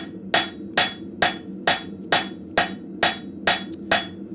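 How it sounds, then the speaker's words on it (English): A cross peen hammer spreads a piece of hot scrap steel into an arrow head, about nine sharp ringing blows landing in a steady, even rhythm close by. "I'm just taking my cross peen and spreading this out, trying to get as much width as I can out of this piece"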